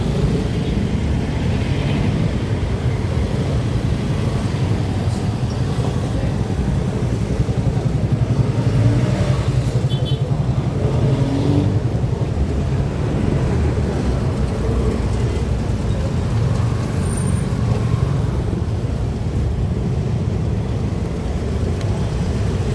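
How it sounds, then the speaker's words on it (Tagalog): Busy city street traffic with buses and cars in Davao City, a steady dense rumble of engines passing and idling at close to middle distance, continuous with no voices. "So, traffic."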